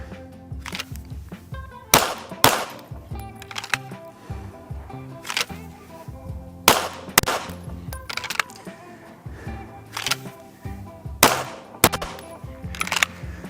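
A pistol is fired eight times after a draw in a shooting drill: sharp, loud reports in quick pairs and small clusters separated by short pauses, over a background of faint rustling and movement.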